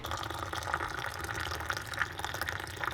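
Boiling water pours steadily in a continuous splashing stream, close by, with no voices over it.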